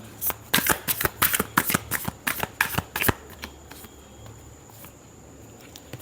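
Tarot cards are shuffled close by in a rapid series of about a dozen crisp riffling slaps over three seconds, followed by quiet.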